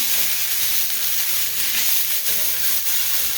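Yellow onion and sausage sizzle in a buttered pan, a steady, loud, close hiss and crackle that carries on without a break.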